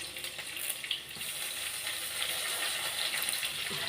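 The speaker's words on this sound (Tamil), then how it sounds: "கூடவே கருவேப்பிலை போட்டுக்கிறேன்." Curry leaves sizzle and crackle in hot oil with onion and garlic in a pan, a steady close frying hiss with small pops, no talking.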